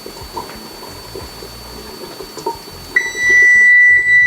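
A steady background of kitchen noise, then a loud, sustained electronic beep from a timer that rings on continuously to the end.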